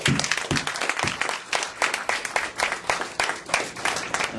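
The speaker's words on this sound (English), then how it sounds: "give yourselves a round of applause for coming back" A live audience applauds itself at a lecture event, a dense burst of clapping from a mid-sized crowd that swells and pulses steadily throughout, with a few sharper claps standing out near the front.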